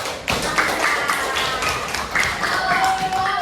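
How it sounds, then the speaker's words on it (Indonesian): A group of people claps hands together in a classroom setting, a dense, steady patter of many hands lasting several seconds, fairly close and loud, with some voices mixed in. "Tepuk tangan dulu"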